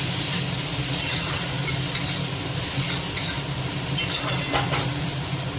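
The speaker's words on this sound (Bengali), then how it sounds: "পেঁয়াজটা দিয়ে একটু নেড়ে নিই।" Onions fry in an iron kadai with cumin and dried chillies, giving a steady loud sizzle. A spoon stirs them and scrapes the pan in repeated light knocks.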